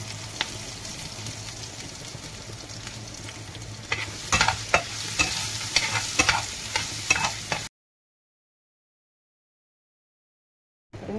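Fried potato gravy cooking in a pan, with steady sizzling and frying noise and a few sharp stirring clinks building over several seconds, then cutting to silence near the end.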